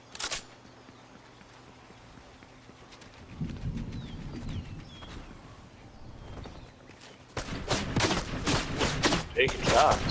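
Gunfire in a first-person shooter video game, a burst of shots growing louder and denser toward the end over ambient game noise, with faint talk earlier.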